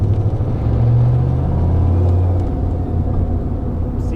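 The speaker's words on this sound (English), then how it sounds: "It's making spool noises, which is awesome." An LS-swapped TransAm fitted with a T51R turbocharger runs on methanol with a steady low engine rumble and a faint whirring spool that rises and falls over several seconds.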